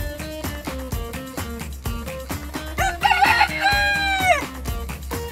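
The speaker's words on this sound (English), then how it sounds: "It's a hen." A farm hen gives a run of short, loud, close clucks in a steady pulse, breaking into a longer, drawn-out rising call partway through before the clucking resumes.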